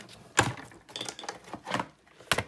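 A paper die-cutting machine cranks a stamping die plate through its rollers, giving a run of soft mechanical clicks and ratcheting thumps, with sharper knocks where the plates pass over bumps, close and fairly quiet.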